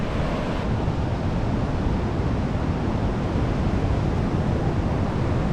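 Ocean surf at a bodyboarding beach in Las Palmas makes a constant, loud, hissing wash of waves, blended with wind buffeting the microphone, with no voices.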